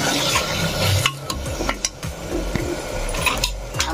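Mutton being sautéed in a pressure cooker with peas going in, a spoon stirring and scraping the metal pot in steady strokes over a soft sizzle, close and fairly loud with no talking.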